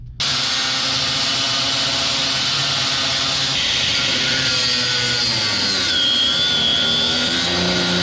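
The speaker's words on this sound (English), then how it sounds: "cut it with the Sawzall, get a nice hole in there" A Sawzall reciprocating saw cutting into the metal body of a 4th Gen 6.7 Cummins truck: a loud, steady buzzing rasp held close, with a rising metallic whine late on.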